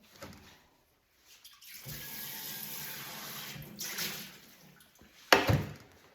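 Water poured from a tap into a pan while a meal kit is being cooked, a close splashing rush that runs for several seconds then stops, followed by a short louder splash.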